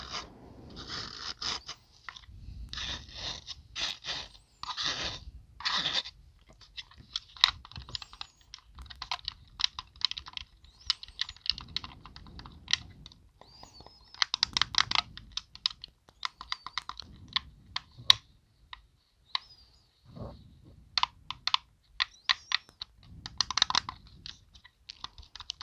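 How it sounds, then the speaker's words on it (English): Rapid, uneven scratching and clicking bursts from a fingernail dragged across small ridged grooves on a matte plastic video game controller, in clusters with short pauses, close and crisp. "It's got little grooves on it that make that noise"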